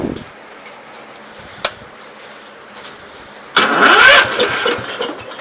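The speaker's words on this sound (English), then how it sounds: "Let's try. Give it a little choke action." A 1969 Gravely 432 tractor engine is cranked with the choke on. After a quiet pause and a single click, it bursts into a loud, close, sputtering start that churns briefly and then falters.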